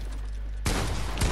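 Fortnite pump shotgun blasts in a 2v2 box fight: one sharp, loud shot bursts in partway through, followed by a second close report about half a second later, with game noise between.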